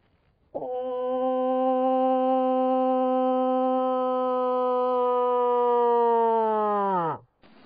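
A single long, drawn-out nasal moaning cow moose call imitated by a human voice, steady and loud for several seconds before tapering off abruptly.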